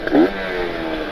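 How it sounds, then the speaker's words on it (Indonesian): A Kawasaki Ninja RR with a ported engine and an ABRT20 galvanized exhaust gives one short, loud rev that swells and fades quickly, close by and with no talk. "Wih, enak banget ya ngerepetnya ini."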